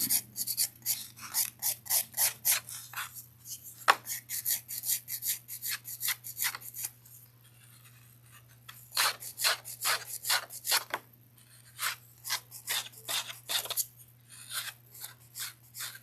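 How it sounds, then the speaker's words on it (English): Nail file rasping across sculptured acrylic nails, alternating 100 and 180 grit: quick rhythmic bursts of close, scratchy strokes with brief pauses between sets, over a low steady hum. "I'm switching between my 100 grit and my 180 grit where needed."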